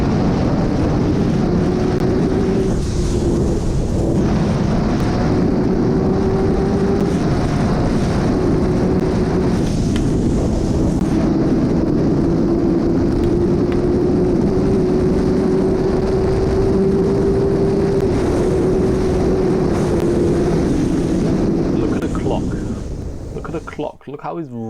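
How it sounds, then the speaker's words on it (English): Kawasaki H2 motorcycle engine revving hard at very high speed, a loud sustained whine with heavy wind roar over a helmet camera, steady and continuous before cutting off at the end. "Look how he's revving that bike out."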